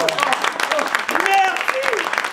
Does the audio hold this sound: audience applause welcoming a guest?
yes